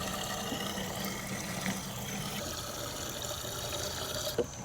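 Water runs steadily into a watering can as it fills with a water and fertilizer mix for potting annuals, a continuous close pouring wash with no talk.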